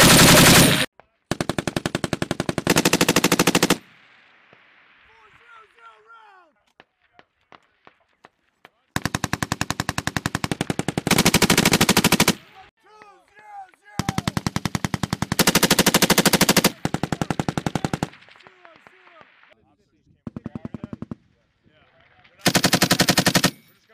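Machine gun firing long, loud automatic bursts during a Marine combined arms assault rehearsal, close by, with short gaps and distant pops between volleys and occasional voices in the pauses.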